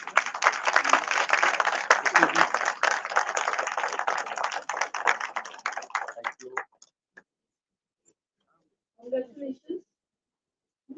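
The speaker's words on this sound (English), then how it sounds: "Give him a big round of applause." A crowd claps in dense, steady applause for an award felicitation at the valedictory session of an international conference on disruptive technologies. It runs for about six seconds, then stops abruptly, with a few stray claps and brief sounds afterward.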